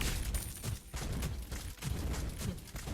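Lesley, a sniper hero in the Mobile Legends video game, shooting: a quick series of fairly soft gunfire cracks and impacts, several in three seconds, mixed with busy game effects.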